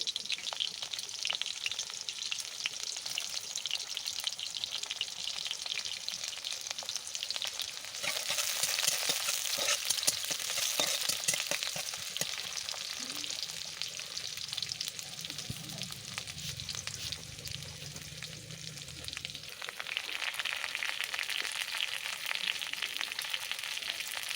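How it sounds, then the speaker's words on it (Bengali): Chopped onion fries in hot oil in a kadai, producing a dense, steady sizzle that swells in the middle and then settles, with occasional stirring and no speech. "তেলটা গরম হয়ে গেছে, দিয়ে দিচ্ছি পেঁয়াজ কুচি।"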